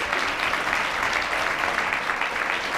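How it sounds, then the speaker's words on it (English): A big room of attendees at a network-marketing presentation gives a loud, steady round of applause, a thick continuous wash of clapping throughout. "Big round of applause."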